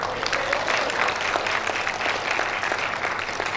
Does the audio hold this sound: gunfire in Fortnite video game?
no